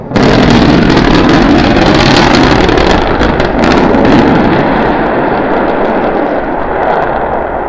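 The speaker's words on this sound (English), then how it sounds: "We're preparing to restart 2 engines, flip the vehicle vertical, then transition to 1 engine for the landing burn." SpaceX rocket engines roar during the restart for the landing burn, a loud, continuous broadband rumble with wind-like buffeting that holds steady and then eases slightly toward the end.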